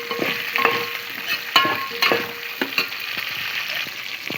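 Garlic, curry leaves, onions and drumstick pieces are stirred in a hot pan: loud sizzling broken by repeated scraping clacks of the spoon against the pan, close up, with no talk.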